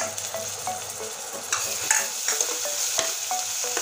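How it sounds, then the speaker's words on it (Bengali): Garlic paste and browned onion frying together in a pan for a pomfret and potato curry, with a steady close sizzle and intermittent scraping stir strokes. "এবার রসুন আর পেঁয়াজ একসঙ্গে ভেজে নেব।"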